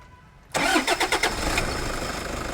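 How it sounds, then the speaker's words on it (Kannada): A used Toyota Fortuner's engine cranks briefly and catches after about half a second of quiet, then settles into a steady, loud, close idle with no talking. "ಗಾಡಿ ಚಾಲೂ ಮಾಡ್ತೀನಿ ನೋಡ್ರಿ, ಚಾಲೂ ಮಾಡ್ತೀನಿ, ಸೌಂಡ್ ಮಾಡ್ತೀನಿ, ಇಂಜನ್ ಸ್ಮೂತ್ ಅದು ಎಲ್ಲ ನೋಡಿರಿ"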